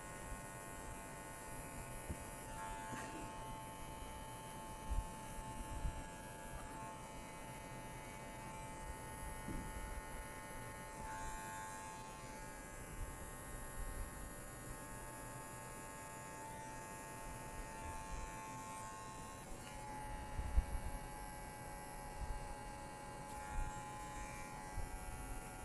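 Electric hair clipper buzzing steadily while cutting a fade haircut, taking the sides down to zero and half guard; a close, continuous motorized hum with small bumps as the blade moves through hair, no talking.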